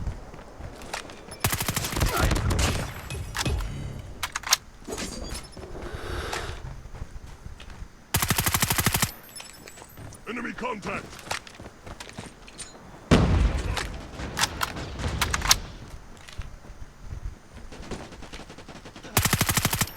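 Call of Duty gunplay, with loud bursts of automatic machine gun fire repeating across the clip, the heaviest sustained bursts near the start, middle and end, and scattered single shots and clatter in between.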